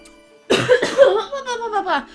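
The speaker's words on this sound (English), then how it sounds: "I'm leaving my cough in just so that you can feel bad for me." A person lets out a harsh cough that breaks into a short fit of rough, throaty coughing and spluttering, close and fairly loud.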